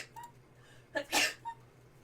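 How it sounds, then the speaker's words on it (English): A woman off to the side gives a single sneeze, a short sharp burst after a quick inhale, heard from a little distance in a quiet spot. "Except for the sneezing woman off to the side."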